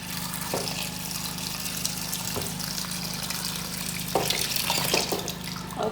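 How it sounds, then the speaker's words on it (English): Water running steadily into a cooking pot in a home kitchen, a continuous gushing pour with a few louder splashes near the end. "So you're going to be needing water."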